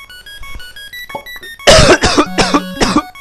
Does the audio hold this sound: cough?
yes